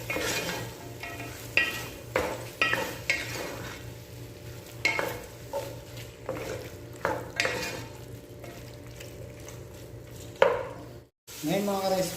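Chicken afritada with fish sauce is stirred in a pot. Repeated scraping strokes and clatter come close and fairly loud over a steady sizzle, with a brief pause near the end.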